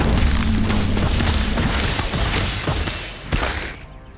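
A bomb goes off in the Harry Potter Magic Awakened video game, a loud booming crash followed by a dense, continuous rumble of game effects that slowly fades.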